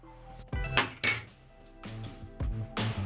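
A spoon clinks and scrapes against a bowl as a hash brown mixture is stirred together with flour, with a few sharp knocks spaced through the quiet background, close and fairly soft.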